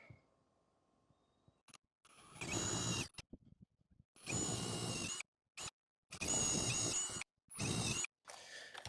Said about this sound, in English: Now let's drill the holes.